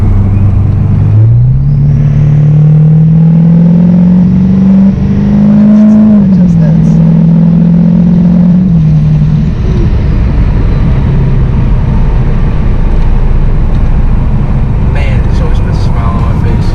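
Duramax LML diesel pickup truck accelerating hard in tow haul mode: loud, close engine roar climbing steadily in pitch through the gears and then settling into a sustained drone and road rumble.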